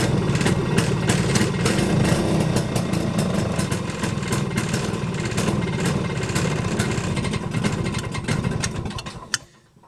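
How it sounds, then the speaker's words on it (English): A vehicle engine with a generator charging the battery runs loud and steady for nearly ten seconds with a dense, even rumble, then shuts off abruptly just before the end. "Okay, so the engine did start, the generator light was out"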